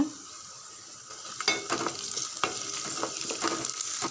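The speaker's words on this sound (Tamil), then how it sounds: "கொஞ்சம் கருவேப்பிலை வெங்காயம் நல்லா சவரட்டும்" Curry leaves and onions fry in oil, with chana dal already in the pan, for a vegetable-free sambar: a steady close sizzle broken by repeated scraping stirs of a spoon against the pan.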